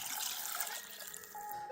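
Water and soy sauce pour steadily into a pot for ramen chashu braising liquid, a continuous close splashing trickle with no talking.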